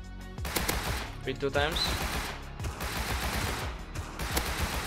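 Gunfire in the game Rust: several loud shots and short bursts ring out close by, mixed in with people talking over them.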